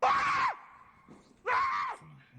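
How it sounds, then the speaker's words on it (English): A man screams in terror in a ghost-hunting scene, two long, loud, strained cries separated by a short pause, each ending in a falling wail. "he's screaming all the time in terror"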